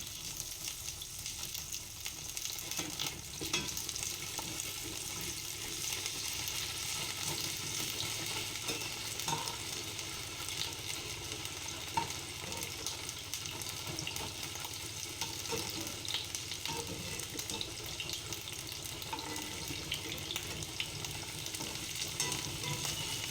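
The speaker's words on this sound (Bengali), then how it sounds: "এইবারে বেগুন আর সজনে ডাঁটা ভেজে নেব।" Brinjal and drumstick pieces frying in hot oil give a steady, dense sizzle that runs unbroken and close for the whole stretch, with occasional faint stirring clicks and no voices.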